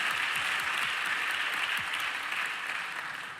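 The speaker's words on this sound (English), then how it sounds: "Let's give him a round of applause." Church congregation applauding at Abyssinian Baptist Church, a dense, steady wash of clapping from a large crowd that holds for several seconds and slowly tapers off.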